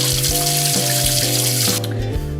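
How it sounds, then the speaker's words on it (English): Cold tap water running over a pressure cooker in a sink, used to bring the pressure down after cooking baby food; a steady, loud, close gush with rhythmic splashing and ringing from the metal pot. "you put it in the sink and run cold water over it to help get the pressure back down."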